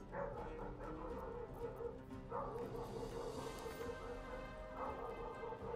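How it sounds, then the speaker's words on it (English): Dogs in the room bark and whimper in short yips and whines, spaced a couple of seconds apart over a low background hum, fairly faint and not very close, with no talk. "Sorry about the dogs."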